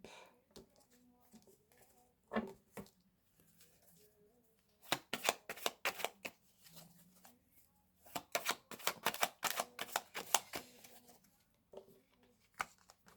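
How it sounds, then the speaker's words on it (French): A deck of tarot cards is cut and handled, giving irregular dry clicks, riffles and slaps in short bursts with quieter gaps between them, close by. "Alors, je vais faire une coupe."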